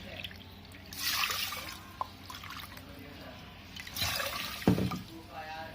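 Water is poured from a measuring cup into lentils in a cooking pot for restaurant-style smoky dal bukhara, in two short splashing pours with quiet pauses between them.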